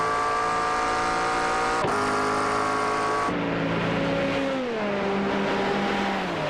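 Race car engines in the iRacing sim at Road Atlanta drone loudly and steadily, several motors layered with harmonic whines that shift pitch as they shift gears and pass, with no talking.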